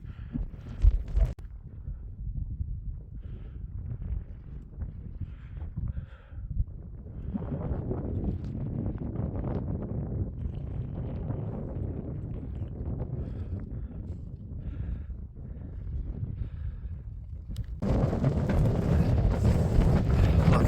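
Icy wind on a Lake District mountain, Grey Friars, buffeting the microphone in low roaring gusts that rise into a harsher, louder blast for the last few seconds.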